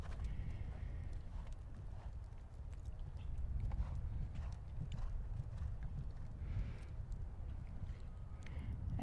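Horse hooves beat a steady rhythmic clip-clop through a dressage test at a horse show, moderately close over a continuous outdoor background rumble.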